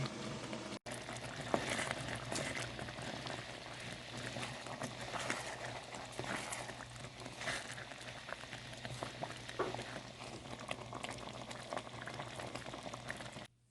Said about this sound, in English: we're going to let this simmer for about 20 minutes